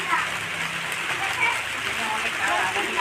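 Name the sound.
rain falling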